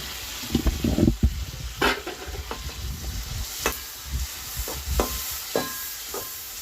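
Kashmiri chili powder being stirred into a pan for a fish curry: scattered scraping stir strokes over a soft background sizzle, moderately loud and close, with no voices.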